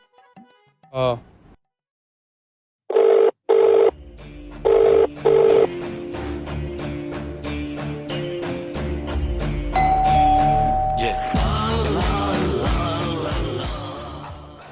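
A phone call rings out. Two short trilling bursts come first, then a steady run of ring tones with clicks, and a sustained tone joins in later, while indistinct activity builds underneath.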